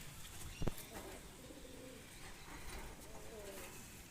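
Madrasi high-flying pigeons coo softly and repeatedly at a Kolkata pigeon sale, faint and somewhat distant, with a brief thump early on and someone talking in the background.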